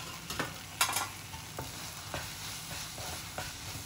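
Masala spices sauté in a pan for mushroom masala, with a soft steady sizzle broken by a few scraping stirs of a spoon, fairly quiet and close.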